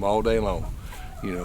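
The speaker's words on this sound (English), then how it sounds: "You can hear these chickens behind me, they're eating right now." Backyard egg-laying chickens cluck softly while eating, their calls running close behind and between a man's speech.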